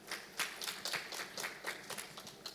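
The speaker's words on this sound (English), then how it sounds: "Ladies and gentlemen, please welcome Dr. Wijesinghe with a warm round of applause" An audience at a Sri Lankan business conference claps to welcome a speaker, a fairly quiet, scattered patter of hands that holds steady and then thins out.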